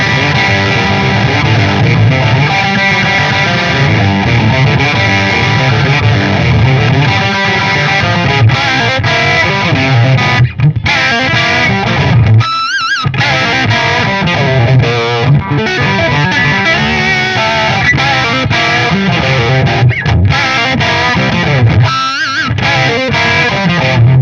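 Heavily distorted electric guitar riffing through a Mesa/Boogie Mark V high-gain tube amp, channel 2 Mark I mode with thick switch on, thick and loud, with brief pauses between chugging phrases.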